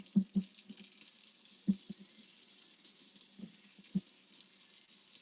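Water running gently and steadily from a tap while tissue culture plants are rinsed, with a few soft splashes and knocks scattered through the flow.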